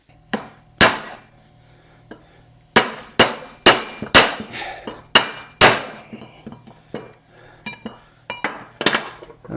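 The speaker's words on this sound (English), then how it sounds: "And we're gonna have to hammer those down." A hammer drives wheel studs into a front brake rotor on a 1965–66 Ford Thunderbird, giving about a dozen sharp metallic strikes in irregular bursts, loud and close, with lighter clinks between them.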